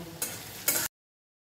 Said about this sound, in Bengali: আদা কুচিটা দেব, এবারে এগুলো একটু লাল লাল করে ভেজে নেব।